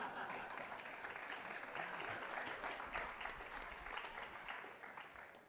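Audience applauding at an Amherst town meeting, a steady broadband wash of clapping that holds evenly for several seconds and begins to thin toward the end.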